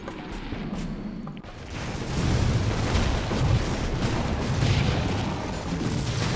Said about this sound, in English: A lot of explosions there, directed by Michael Bay.